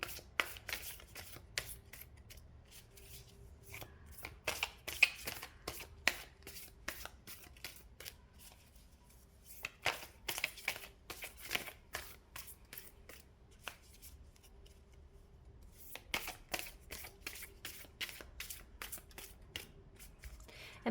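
Tarot cards being shuffled close up in a quiet room, heard as repeated soft riffling bursts and crisp card slaps in an uneven rhythm, with short pauses between rounds and no speech.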